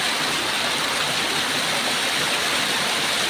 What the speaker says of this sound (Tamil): இப்போ தண்ணி போகிறத பாருங்க, எவ்வளோ அருமையாக இருக்குது அது தண்ணி